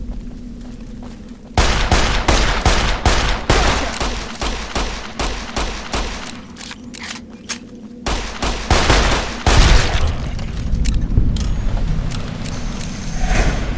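Plastic explosive grenades going off in Fallout New Vegas: after a quieter opening, a dense run of sharp blasts and crackling detonations fills most of the clip, loud and close, with a heavier booming burst near the end.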